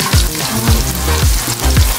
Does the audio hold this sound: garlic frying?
yes